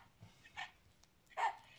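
A small toy dog gives a few quiet, short electronic barks, each spaced apart, with no talking during them.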